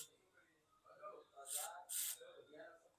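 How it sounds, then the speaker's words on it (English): Two quick hissing bursts of spray are aimed under a Samsung Galaxy Z Fold 3 phone screen to loosen its glue, close and brief, with a person talking quietly around them. "spray under here, so you weaken the glue a bit"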